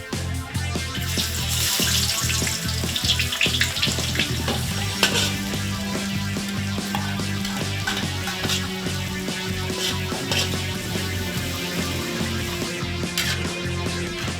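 Catfish fried and then mangut spice sauce cooked in a pan give a dense, constant sizzle and crackle with scraping and stirring clatter and bursts of bubbling throughout, close and loud.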